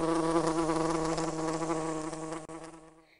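A wasp buzzes steadily and close up, a dense droning hum that gradually fades out near the end, used as an audiobook sound effect.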